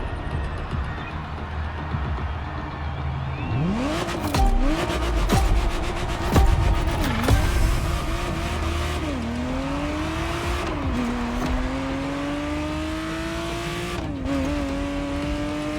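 A Ferrari Testarossa in a racing video game revs hard and accelerates with rising engine pitch through several gear shifts, tires squealing and skidding at moments, loud and close with no talk.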